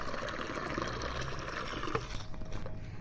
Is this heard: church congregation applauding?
no